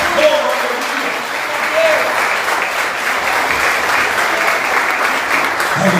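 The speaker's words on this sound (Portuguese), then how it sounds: "Então aplauda ao Senhor em nome de Jesus" Sustained congregational applause at a Portuguese-language church service, a dense, steady wash of clapping from many people lasting throughout.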